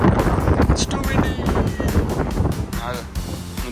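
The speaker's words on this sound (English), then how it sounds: "It's too windy." Gusty wind buffets the microphone in rough, low rumbling bursts, with voices talking faintly underneath.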